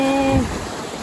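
Steady broadband rush of falling water fills the whole clip, with a brief low tone fading out near the start.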